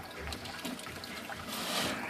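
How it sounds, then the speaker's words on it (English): Water trickles and drips steadily onto a large piece of wood in a mossy tank housing European toads, a soft, close, continuous splashing that swells slightly toward the end. "I have water coming in here, dripping all over that big piece of wood there and growing moss"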